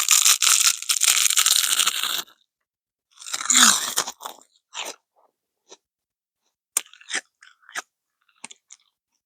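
Close, loud crunching and chewing of crispy seaweed chips, a long burst of bites followed by a pause and then scattered sharp crunches, with no talk.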